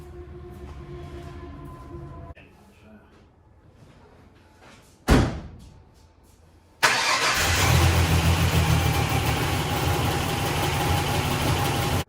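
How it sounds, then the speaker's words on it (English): A 1998 Ford Ranger with a swapped engine: a door slams sharply, then the engine starts and settles into a loud, steady run close by, with faint mechanical sounds beforehand. "Was able to drive it out and drive it down to the house"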